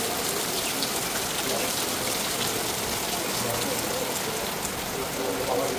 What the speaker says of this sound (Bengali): ভালোই লাগে বৃষ্টি দেখতে